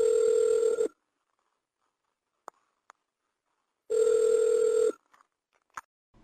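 A telephone rings twice during a live call-in broadcast, two loud one-second electronic rings separated by about three seconds of silence, with faint clicks in between.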